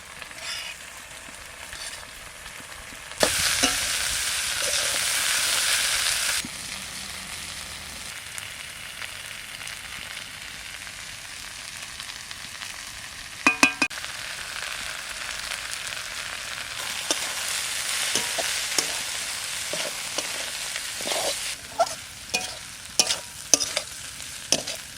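Spring onion stalks stir-fried in a pan, giving a steady sizzle with bursts of louder frying and scattered scraping clicks from the spatula, with no talk.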